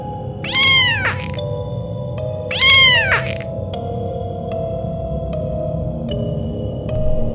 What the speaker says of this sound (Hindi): ये काली बिल्ली है